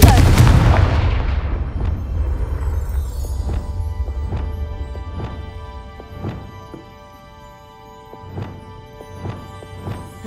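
A Confringo fire spell blasts in Hogwarts Legacy: one loud explosive burst up front that decays over a few seconds, followed by a series of softer, evenly spaced impact thuds over a droning tonal background.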